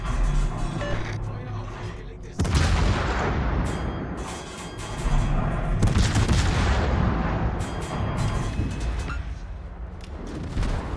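Heavy armor-piercing shell fire against a warship in a naval combat game, with a dense, continuous roar of booming artillery salvos and impacts that stays loud throughout, overlaid by talk.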